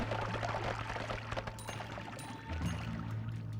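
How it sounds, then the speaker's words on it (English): Water spraying in the pixel-physics game Noita, a steady hissing, pouring wash that runs continuously and close, shifting slightly partway through, with no talking over it. "water I'm spraying on myself"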